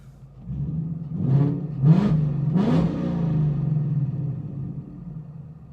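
A Ford Mustang with a failing O2 sensor revs three times in quick succession, each rise and fall clear and loud over a low idling rumble.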